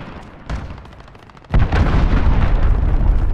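A cruise missile strike in the Modern Warfare video game: a soft thump, then a heavy, loud explosion that erupts and sustains into a rumbling roar.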